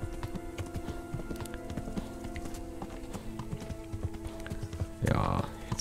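Horse hooves clip-clop at a steady trotting rhythm in the medieval video game Kingdom Come: Deliverance, mixed with game ambience and a brief louder rustle near the end.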